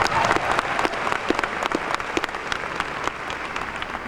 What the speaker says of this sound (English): Let's give Sydney a round of applause.